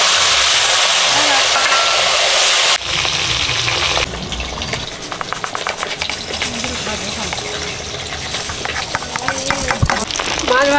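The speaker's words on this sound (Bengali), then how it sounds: "তেল গরম হয়ে গেছে, মাছ দিয়ে দিচ্ছি।" Salted, turmeric-coated tilapia fish dropped into hot oil: a bright, loud sizzle at first, then a busier crackling fry with scattered pops and clinks, no talk.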